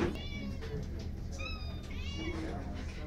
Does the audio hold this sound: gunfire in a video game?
no